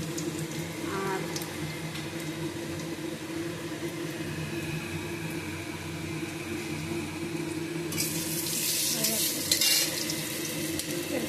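Radhuni seeds, dry chillies and a bay leaf spluttering in hot oil for a yardlong bean curry, a steady close sizzle with a brighter, louder crackling burst toward the end.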